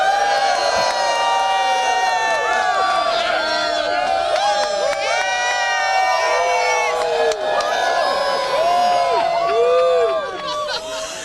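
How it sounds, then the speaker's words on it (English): Wedding guests cheer loudly for the groom at a reception, a sustained crowd roar full of whoops and shouts that carries on for several seconds before tapering off. "So after I say Alex, I want everyone to cheer who thinks he had the best stag."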